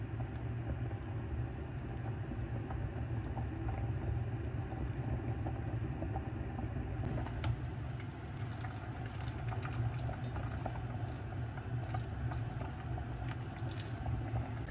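Rice boils in a pot for biryani, giving a steady low bubbling rumble that holds an even level throughout, with fainter crackling above it in the second half.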